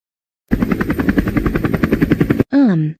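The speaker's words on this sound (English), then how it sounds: "A helicopter? In the middle of Mario's house" A helicopter blade thumps loudly in a fast, steady rhythm for about two seconds. It stops abruptly and is followed by a short, wavering voice-like sound.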